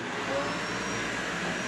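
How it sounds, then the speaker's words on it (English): A full-size household vacuum cleaner powered through an inverter by a Siekon 12-volt 100 amp-hour lithium iron phosphate battery runs with a steady, loud broadband roar close by. "Can the Siekon 12 volt 100 amp hour lithium iron phosphate battery run a full-size household vacuum cleaner?"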